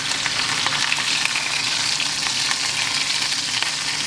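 A sous vide ribeye steak has its fat edge seared in a very hot pan, giving a loud, steady, dense sizzle with faint crackles and no talking throughout.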